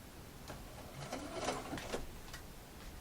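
A sewing machine stitches bias binding along a stretched curve. Short bursts of its whirring, clattering run start and stop, close and moderately loud, with no voices.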